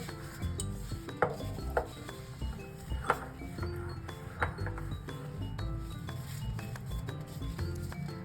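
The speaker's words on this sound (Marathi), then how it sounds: "तर चांगलं पुसून घ्यायचं स्वच्छ" A filled jar of quick carrot pickle is wiped clean, with soft rubbing and scattered faint clinks of glass, quiet and close throughout.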